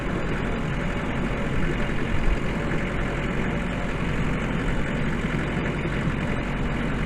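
A loader tractor's engine runs in a steady, low rumble on a winter farm where Highland steers are fed hay bales, continuous and fairly close with no talk over it.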